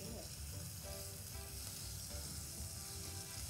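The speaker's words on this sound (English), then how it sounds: "We know it's hot when it sizzles very well." Oil sizzling and frying in a hot pan, a steady, dense crackle that runs unbroken and fairly close, with faint stirring and no talk, while cooking empanadas.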